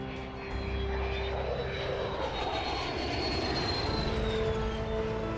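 An F-16 fighter jet roars past in a steady, loud sustained rush with a faint whine, continuous throughout and with no talk.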